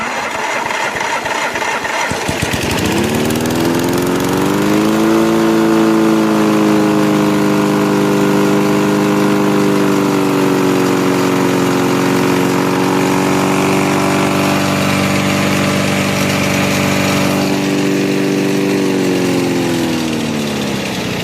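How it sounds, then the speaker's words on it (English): Free Snapper walk-behind lawn mower with electric start, needing carb cleaning, starts up and then runs steadily at a droning mid-pitched engine tone, heard close and loud with no talking. "Just a quick little video on an absolutely free snapper mower."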